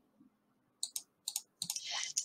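Several sharp, quiet clicks, like a computer mouse being clicked, come singly and in quick pairs in a quiet room, ending with a brief rustle.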